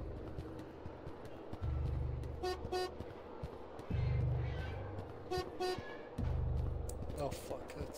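Car horn honking in the horror video game Escape the Backrooms, three loud sustained blasts spaced a couple of seconds apart, with quieter in-game sounds between them.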